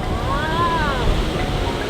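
Ocean waves wash onto an empty sandy beach in Sumba, a steady broadband rush with wind buffeting the microphone and a faint tonal whine drifting through briefly.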